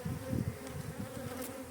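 Honeybees buzzing around an opened hive brood box outdoors, a soft steady drone of many insects close by, fairly faint and without speech.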